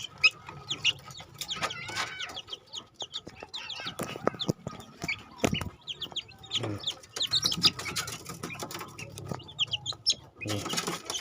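Young Bangkok roosters cluck in scattered bursts, some near and some farther off, with occasional sharp noises in between.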